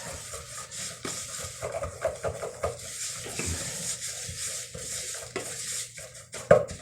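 Pasta being tossed with olive oil in a pot, heard as a quick run of scraping and clinking spoon strokes against the pot, close and moderately loud, with one sharper knock near the end.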